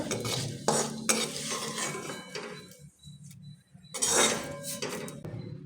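Poha is roasted in a pan and stirred with a spoon, giving bursts of scraping and clinking over a soft sizzle, close by, with a brief lull in the middle.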